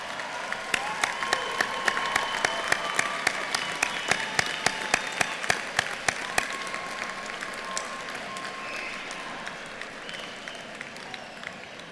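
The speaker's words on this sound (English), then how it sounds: "give them a round of applause for their support and achievements" Applause at a university School of Education graduation ceremony, with a crowd clapping steadily and some individual sharp claps standing out near the start, then gradually thinning and fading toward the end.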